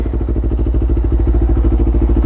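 A motorcycle engine idles with the choke open while warming up, a steady rapid low-pitched pulsing throb close by with no talk.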